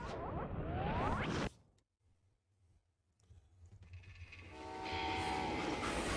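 A freight train in Call of Juarez Gunslinger rumbles and clatters loudly, drops to a low hush in the middle, then swells back with a sustained horn-like tone.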